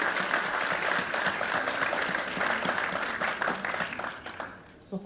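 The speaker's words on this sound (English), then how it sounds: "the rest of us could give you an applause" Town meeting audience applauding first-time attendees, sustained dense clapping from a large indoor crowd that tapers off near the end.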